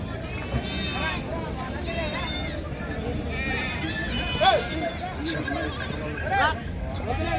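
Goats bleat a few times amid a busy outdoor crowd at a goat market, their cries rising over continuous chatter and background voices.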